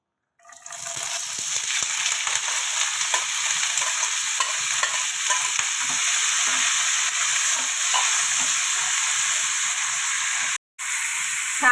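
Capsicum, potato, carrot and peas frying in oil in a kadai: a sudden loud burst of sizzling as the vegetables hit the oil, then a sustained bright crackling hiss with small stirring crunches, briefly cut off near the end.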